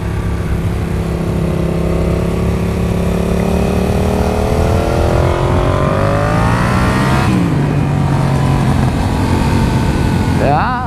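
A 2018 Yamaha MT-07 motorcycle on a ride revs up through rising engine tones, shifts and pulls again, loud and close throughout, with a brief burst of voice near the end.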